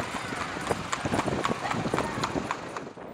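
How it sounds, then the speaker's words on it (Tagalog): Horses gallop in a festival horse race on a newly built road in San Nicolas near Taal, their hooves pounding in a quick, close, rhythmic clatter while voices talk over the running. "Dahil nakasakay sa kabayo si San Martin, nagkakaroon din ng karera ng kabayo kasabay ng fiesta."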